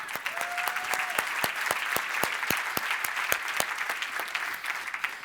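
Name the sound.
conference audience applause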